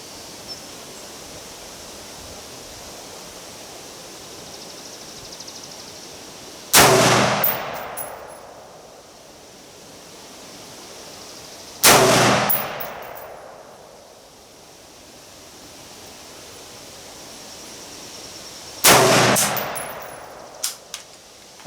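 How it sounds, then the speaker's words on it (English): Three single rifle shots from a Colt SP1 fired at 25 yards, each a sharp, loud crack with a ringing decay, spaced roughly five to seven seconds apart over quiet outdoor background. "that was my first 3-shot group with the Colt SP1"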